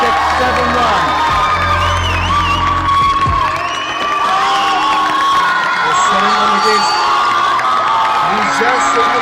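An indoor mall audience cheers and whoops loudly after a hard-fought squash quarter-final victory at the SDAT Squash World Cup in Chennai, a continuous roar with a commentator talking over it.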